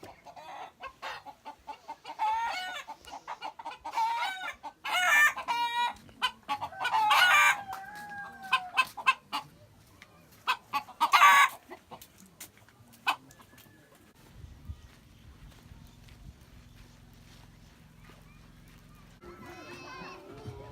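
Chickens cluck and squawk nearby in repeated bursts, then go quiet before a rooster begins crowing at the end, in rural northern Laos.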